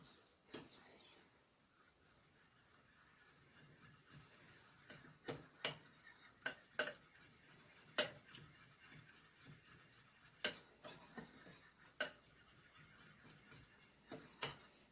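A utensil stirring and scraping against a bowl while cornstarch is mixed into ham and beans broth, quiet irregular taps and rubs with sharp clinks spread across the stretch.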